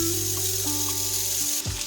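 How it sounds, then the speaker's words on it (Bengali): Papaya and bottle gourd stems sautéing in a pan over a medium flame, giving a steady, close sizzle that keeps on without a break, with a short scraping stir near the end. "পেঁপেটাকে আমরা প্রায় মিনিট দুয়েক ধরে মিডিয়াম ফ্লেমে কষিয়ে নেব"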